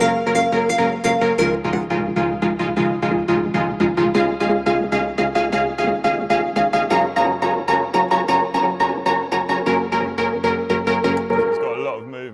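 Drum and bass music bus run through an LFO tool, EQ and reverb gives sustained synth chords with a rhythmic pumping swell, loud and continuous, before cutting off with a short reverb tail.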